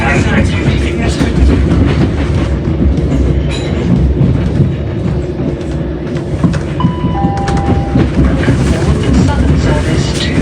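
Southern passenger train running on rails toward Brighton, a steady loud rumble of wheels and carriage noise throughout, with a brief squeal partway through.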